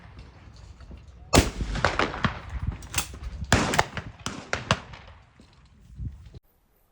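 A series of loud gunshots at a shooting competition in Ivano-Frankivsk rings out, some in quick pairs and others spaced apart, echoing over an open outdoor range before cutting off.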